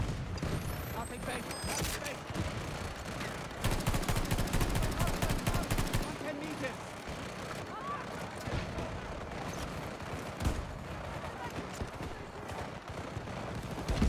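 Rifle fitted with a muzzle brake firing in Battlefield 2042 multiplayer, rapid automatic bursts and single shots over distant battle noise, moderately loud and continuing through the clip while a person talks.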